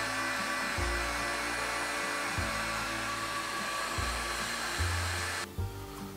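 A heat gun shrinks heat-shrink tubing over a wire connection for a camper van solar setup. It gives a loud, steady blowing roar with a pulsing low hum that runs throughout and cuts off abruptly near the end.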